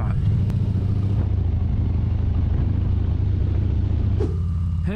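A Harley motorcycle runs wide through twisty corners, its engine a steady, close, deep rumble with slight rises in revs and wind noise over the top, no talking.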